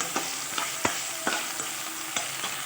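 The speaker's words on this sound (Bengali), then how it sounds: "আলুটা একটু ভেজে ডাঁটাগুলো দিয়ে দেবো।" Potatoes frying in a pan for a drumstick-and-poppy-seed curry, a steady soft sizzle broken by sharp scraping stir strokes roughly every half second, close and alone with no voices.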